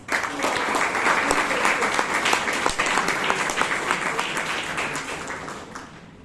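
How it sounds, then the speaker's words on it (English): A Toastmasters club audience in Bangalore gives a big round of applause, dense continuous clapping from many hands that holds steady and slowly tapers near the end. "So a huge round of applause."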